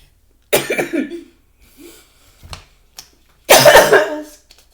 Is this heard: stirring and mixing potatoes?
no